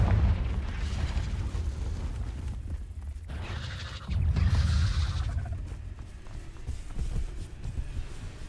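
A Confringo fire spell explodes in the video game Hogwarts Legacy, a dull rumbling blast that swells around the four-second mark over continuous low game noise and thumps, with no voices.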